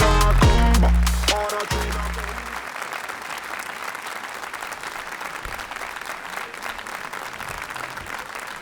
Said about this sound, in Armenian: Բարձր ծափերի ներքո դիմավորեք։